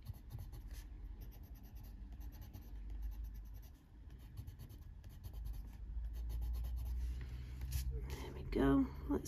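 Colored pencil blending across leaves on an adult coloring book page, a soft continuous scratchy scraping of pencil on paper that runs steadily at low level, with a person talking quietly near the end.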